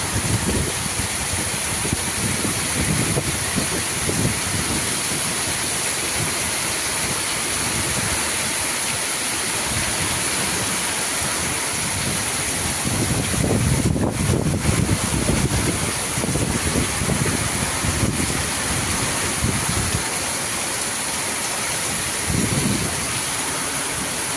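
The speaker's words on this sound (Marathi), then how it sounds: "किती भारी पाणी वाहते बघा" Water rushes hard after heavy monsoon rain, a loud, constant roar like a swollen stream that swells louder midway through and carries no talk.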